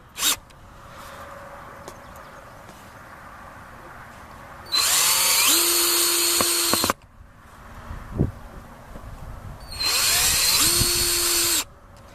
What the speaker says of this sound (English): You're going to want to have a drill for that.